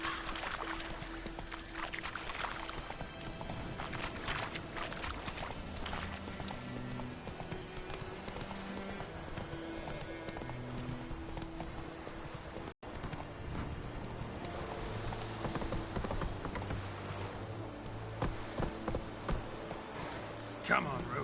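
The horse Roach gallops in The Witcher 3 with a rapid, steady clip-clop of hooves. Game music plays underneath and a voice speaks at times over the hoofbeats.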